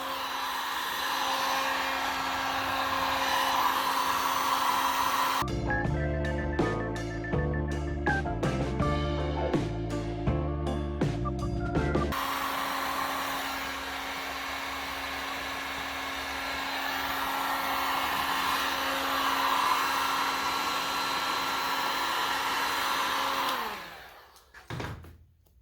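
Hair dryer blowing steadily on a repaired Halloween prop, a loud continuous whoosh that runs for most of the clip, pausing briefly in the middle with a clattering mechanical burst before resuming and then cutting off near the end.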